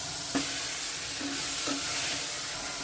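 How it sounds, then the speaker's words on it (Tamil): Eggplant sautéing with onion, garlic and tomato in oil in a pan, a steady loud sizzle with a few soft stirring scrapes, no voices. "இப்போ நம்ம கத்திரிக்காய் போட்டு வதக்கலாம்"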